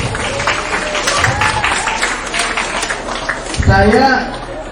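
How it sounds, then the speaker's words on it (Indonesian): An audience at a personal development seminar applauds a participant named Nadia, with a burst of clapping that swells near the end under a speaker's voice. "tepuk tangan dulu buat Mbak Nadia ya"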